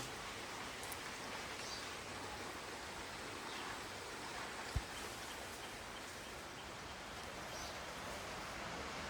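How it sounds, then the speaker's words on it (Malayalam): Heavy monsoon rain falls outside a house, a steady, dense hiss with no break, heard alone with only a single faint knock partway through. "അപ്പോൾ പുറത്ത് കണ്ടില്ലേ, അത്യാവശ്യം നല്ല മഴയുണ്ട്."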